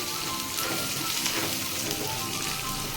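Small shallots sautéing in a hot pan for a coconut-bit prawn roast, a steady close sizzle and crackle of frying that fills the whole stretch without pause or talk.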